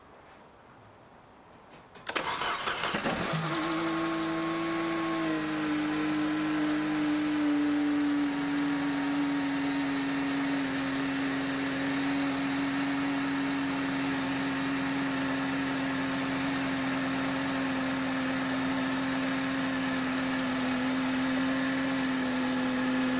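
A Mercedes W203 C180K cranks and starts after a brief quiet moment, then settles into a steady, close idle with a constant mid-pitched engine drone and faint whine for the rest of the clip.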